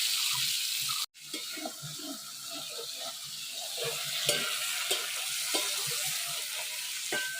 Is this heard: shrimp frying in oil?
yes